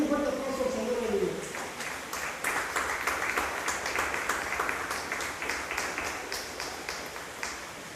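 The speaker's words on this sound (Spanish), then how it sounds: "Den un fuerte aplauso al Señor" A church congregation claps together for about seven seconds after a voice speaks at the start, a dense patter of many hands that keeps going at an even level.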